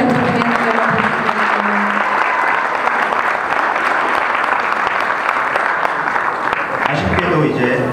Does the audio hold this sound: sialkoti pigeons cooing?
no